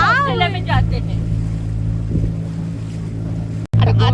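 A motorboat engine drones steadily and loudly on the water near Malvan, with voices talking over the constant hum.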